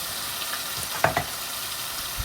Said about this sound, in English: Saute it well. Cook it till the shrimp changes to pink color, which is almost there but not quite.